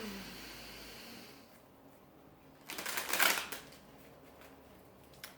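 A deck of tarot cards is shuffled during a card reading, with a quiet rustle first, then a close, brisk riffling burst in the middle, fading back to near silence.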